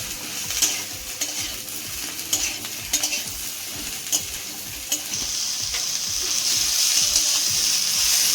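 Potato and ridge gourd fry in a pan with a steady sizzle, stirred by a utensil with repeated scrapes and taps; the sizzling grows louder toward the end.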